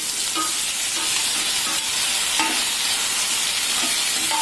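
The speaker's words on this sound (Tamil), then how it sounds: "நல்லா வதக்கி விடுங்க" Tomatoes and curry leaves sauté in a hot pan, producing a loud continuous sizzle and crackle with faint stirring scrapes, close up and without talk.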